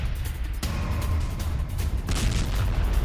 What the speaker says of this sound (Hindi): आईडीएफ की मरकावा बैटल टैंक से गोलीबारी की ये तस्वीरें आप देखिए